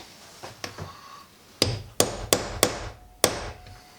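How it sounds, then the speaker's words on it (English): Sharp hammer blows strike a punch through leather, a few light taps followed by five louder, evenly spaced knocks, close by and without any talking. "What you'll tend to find is if you hammer straight through,"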